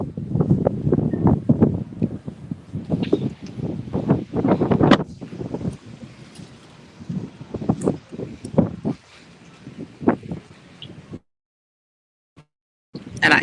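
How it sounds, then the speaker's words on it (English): Wind gusts across the open deck of the MSC Seashore cruise ship, roaring and buffeting the microphone in uneven bursts for about eleven seconds before falling silent, then returning briefly at the end. "Now it's going to get pretty windy, okay?"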